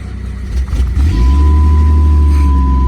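A 1996 Jeep Grand Cherokee engine cranks briefly and catches, then settles into a steady, loud idle with a low rumble and a faint high whine.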